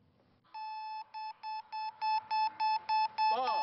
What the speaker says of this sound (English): Derek Smith, ladies and gentlemen, let's check out Beep Baseball